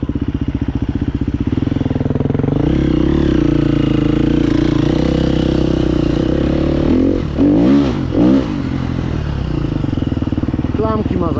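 KTM 350 motorcycle engine close by, ticking at idle and then revving in several sharp rising and falling bursts, with people talking briefly over it.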